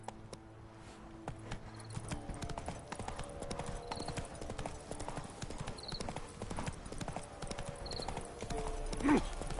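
Roach the horse gallops in The Witcher 3, hooves clip-clopping in a steady, continuous rhythm throughout, fairly close, with faint game ambience and a brief horse snort near the end.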